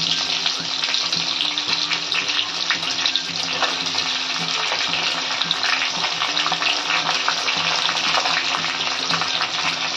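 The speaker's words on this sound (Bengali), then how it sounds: "এইগুলো একটু কষিয়ে নিয়ে এতে আমি পেঁয়াজ দেবো।" Spices and finely chopped onion fry in a pan with a steady, close sizzle that holds for the whole stretch, with faint stirring scrapes now and then and no voices.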